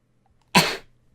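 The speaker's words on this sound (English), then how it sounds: "that sneeze hurt, like physically hurt" A single sharp, loud sneeze close to the microphone, one abrupt burst that fades quickly, set against near silence.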